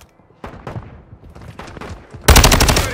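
Gunfire in the video game Call of Duty Modern Warfare II: scattered sharp shots at first, then a loud sustained burst of rapid automatic fire at the end.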